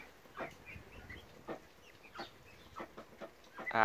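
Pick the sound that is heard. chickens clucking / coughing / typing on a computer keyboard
chickens clucking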